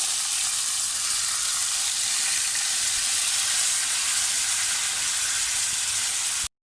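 Beef sizzles and fries in a pan, a dense, steady hiss of hot oil that runs unbroken and close before cutting off abruptly at the end.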